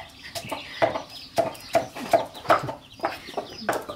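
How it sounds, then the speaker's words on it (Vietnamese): A chick clucks repeatedly while pecking around for food, a string of short, bright peeps in an uneven rhythm, close and fairly clear over a faint background. "Con gà con đi tìm ăn mà."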